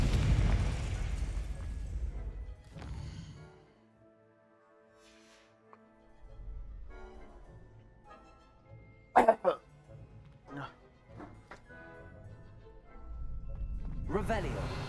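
Confringo explosion spell from Hogwarts Legacy bursting in a game scene: a broadband blast at the start, quieter stretches, then sharp bursts near the middle and another swelling blast at the end, with speech heard at times.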